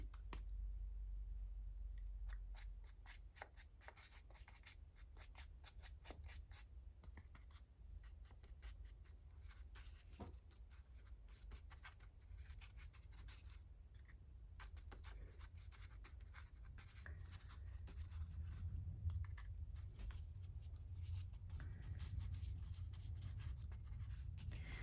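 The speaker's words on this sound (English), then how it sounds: "This is a nice scratchy brush." A scratchy paintbrush drags across paper in faint, close strokes, with irregular short scratches and pauses, alone in a quiet room.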